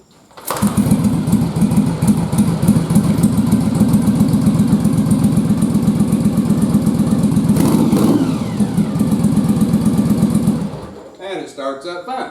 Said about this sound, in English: this bike starts up so well that I just have to kick her over